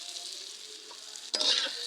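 Eggs and onions sizzle in a pan over a clay stove on a rooftop, a steady hiss of frying broken by a sudden louder burst of crackling as ingredients are stirred or added near the end.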